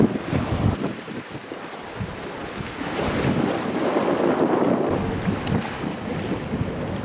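Wind while sailing a boat at sea in about 10 knots of wind on confused seas: steady blustery rush of wind over the microphone mixed with sloshing water against the hull, loud and continuous without speech.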